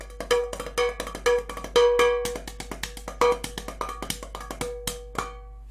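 Bright metallic taps on a small tea tin, struck in a quick uneven rhythm, each hit ringing briefly with a clanky, cowbell-like tone.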